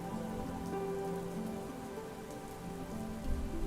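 Steady rain patters on a surface as a constant ambient wash during a tabletop role-playing session, even and unbroken with no voices.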